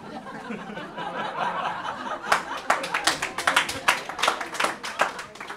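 An audience at a lecture begins clapping for a special guest after a stretch of murmuring and light laughter; claps grow into quick, uneven rounds from a modest crowd.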